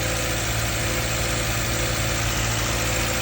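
A 2014 Subaru Forester engine with about 208,000 miles idles steadily nearby, a constant mechanical drone with a faint rapid ticking knock from piston slap running underneath, and no one talking.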